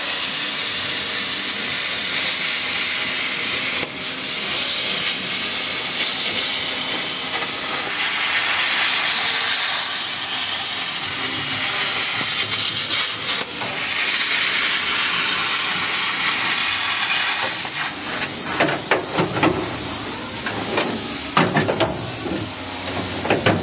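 Sandblasting sheet metal in a blast cabinet to strip surface rust gives a loud, continuous hissing roar with rattling grit, steady throughout with a few brief pauses.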